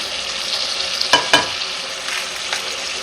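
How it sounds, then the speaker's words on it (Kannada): Ground masala and tomatoes fry in a pan for masala rice bath, giving a steady soft sizzle. Two quick spatula scrapes land close together near the middle, and one lighter scrape comes later. No one speaks. "ಈಗ ಈ ಮಸಾಲೆ ಹಾಕ್ಕೊಂಡು ಸ್ವಲ್ಪ ಜಸ್ಟ್ ಒಂದು ಸೆಕೆಂಡು ಈ ಥರ ಫ್ರೈ ಮಾಡಿಕೊಂಡ್ರೆ ಸಾಕು"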